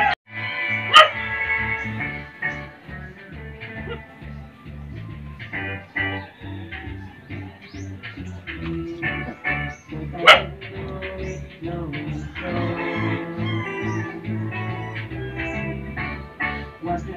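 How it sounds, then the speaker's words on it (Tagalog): A dog barks and whimpers in scattered bursts, with a voice talking intermittently in the background. "Ayan, aso na lang yung nakatira."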